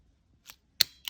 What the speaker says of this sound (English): Then you take your scissors and cut the base of a loop